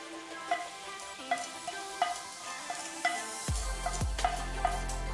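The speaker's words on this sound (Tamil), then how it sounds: "நம்ம எடுத்து வச்சிருக்கிற கடுகு, உளுத்தம் பருப்பு, கருவேப்பிலை சேர்த்து தாளித்து சட்னியோட சேர்த்துற வேண்டியதான்." Mustard seeds, urad dal and curry leaves are tempered in hot oil for a green chutney, giving a soft steady sizzle with sharp crackling pops and two deeper bursts as they fry, with no talking.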